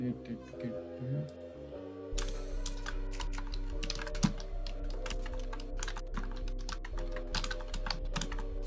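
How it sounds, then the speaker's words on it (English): Fast keystrokes on a computer keyboard pick up speed, clattering close and steady under a low constant hum, with a few sharper clicks standing out. "I'm just casually typing and increasing my speed."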